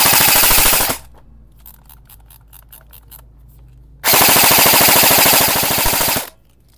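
E&C 603 MK18 full-metal airsoft AEG firing two loud, sustained full-auto bursts of rapid mechanical cracks, separated by a short pause of quieter ticking.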